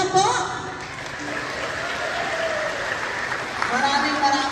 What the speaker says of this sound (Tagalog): palakpak nga po!